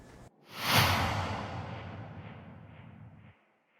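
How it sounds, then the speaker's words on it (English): A whoosh transition sound effect swells quickly after a brief cut to silence, peaks as a loud, airy rush and then fades away gradually over about three seconds. "Whoosh."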